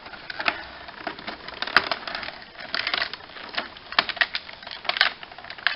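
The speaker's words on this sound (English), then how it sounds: "fold the guns in, and they click into place, and then close up" Plastic guns on a Transformers Cybertron Primus toy being folded in, giving a run of small close clicks and rattling snaps of plastic parts moving into place, with no talk.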